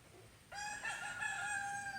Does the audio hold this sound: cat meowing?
no